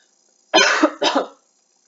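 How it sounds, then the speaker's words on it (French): Two sharp, dry coughs from one person outdoors, close and loud, one right after the other, with wind noise hissing faintly in the background. "Alors oui, je tousse"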